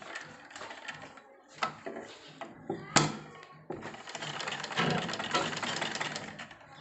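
A sewing machine stitches the corners of a small fabric amulet in short uneven bursts of whirring and clicking, separated by brief pauses and sharp taps, fairly close and fairly quiet.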